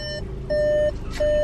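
Reversing beeps sound inside a 2017 Skoda Rapid with a 1.6 engine after the automatic gearbox is shifted into reverse: short, clear tones repeat in an even pulse over a low engine idle.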